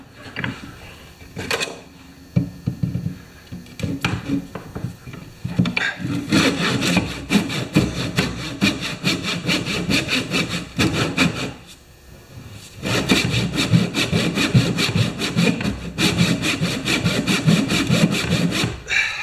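Hand saw cutting into wood, starting with a few separate strokes and then settling into long, loud, steady back-and-forth rasping that pauses briefly midway before carrying on at the same pace.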